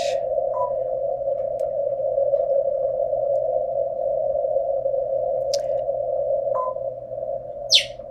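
An amateur radio signal from station N4DH during park activations hunting, heard as a steady single tone with faint static and a few brief chirps, no clear voice.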